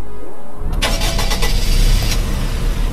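An Audi car engine cranks and catches, then settles into a loud, steady idle close by.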